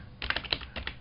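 Quick bursts of keystrokes on a computer keyboard, close and crisp, clustered into two short runs with a brief pause between them.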